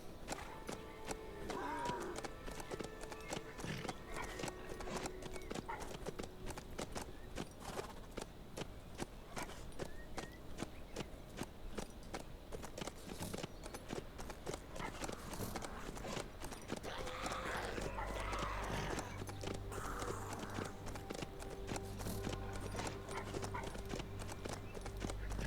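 Horse hooves galloping in the survival video game HumanitZ, a fast, steady clip-clop rhythm that continues throughout, with a heavier rumble joining partway through and occasional game sounds mixed in.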